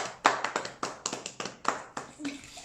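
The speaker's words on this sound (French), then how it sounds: "On peut l'applaudir. Bravo." A small group claps for a guest during an interview, with sparse, uneven claps that are near and moderately loud. A voice speaks over the clapping.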